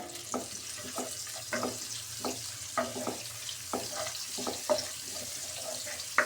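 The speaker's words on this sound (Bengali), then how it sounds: "ওই তেলের ভিতরে এবার পেঁয়াজ দিয়ে দেব। পেঁয়াজ দিয়ে পেঁয়াজটা একটু নেড়ে নেব।" Chopped onions frying in hot oil in a pan for a prawn and winter vegetable curry, with repeated sizzling and stirring scrapes in an irregular rhythm, close and moderately loud.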